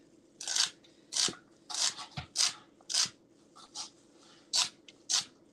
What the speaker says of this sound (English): I'm going to dice up the celery.